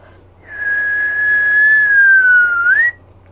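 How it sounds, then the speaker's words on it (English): One person whistles a single long, steady note that bends upward at the end, clear and close over a low hum, with no talking. "Can you whistle?"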